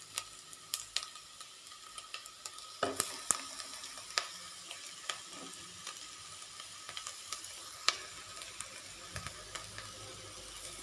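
Grated coconut and spinach sizzle in a hot pan for cheera thoran, a steady soft crackle with intermittent sharp clicks and scrapes of stirring, fairly quiet and close.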